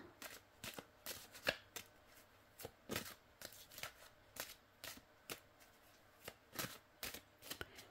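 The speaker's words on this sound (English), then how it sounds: "Shuffle a bit better, Kelita." Tarot cards being shuffled by hand, a run of quick riffling bursts with short pauses between them, quiet and close, no voices.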